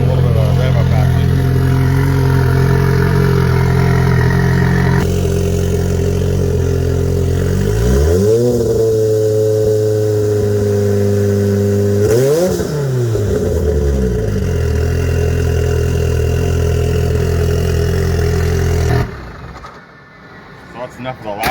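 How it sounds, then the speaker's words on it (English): A turbocharged Polaris Pro R side-by-side engine idles loudly, then revs up in two sharp blips before settling back to a steady idle and cutting off near the end. "we'll give a little bit of a rev up action"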